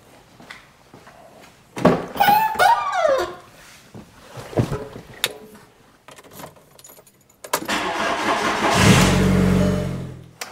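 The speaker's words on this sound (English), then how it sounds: "let's go ahead and see how she starts up" A car starts up after its battery has been reconditioned with a Hasito 20A charger in repair mode. Keys jangle close to the microphone, then the starter cranks and the engine catches and settles into a loud, steady idle.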